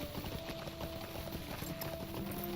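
Horse hooves clip-clopping in the video game Lord of the Rings Online, a rhythmic trot heard under a steady ambient game background.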